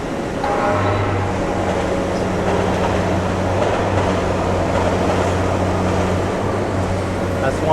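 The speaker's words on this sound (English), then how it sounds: "That's one of Miami's public transit options, the Miami Metro Rail." A Miami Metrorail train passing through downtown near Government Center, a steady loud rumble with low humming tones and faint clatter under street ambience, with some voices nearby.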